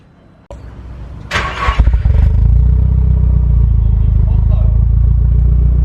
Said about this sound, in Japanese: もうセル回したと同時にエンジンが。